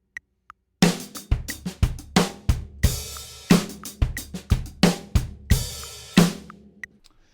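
A drum kit plays a steady groove with kick, snare and an open hi-hat wash shifted onto count 4. The hits are punchy and close, and the hi-hat hiss swells in regular bursts before a final decay.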